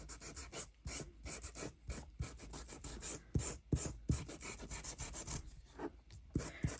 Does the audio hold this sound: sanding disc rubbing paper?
yes